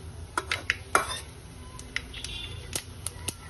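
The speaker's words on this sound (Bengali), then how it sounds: "আমি এখানে গোটা গরম মশলা আর তেজপাতা তেলের মধ্যে দিয়ে দিলাম। এটাকে একটু নাড়াচাড়া করব।" Whole garam masala and bay leaves stirred in hot oil, heard as scattered clinks and scrapes of a utensil against a metal pan, with a faint low sizzle beneath and no talking.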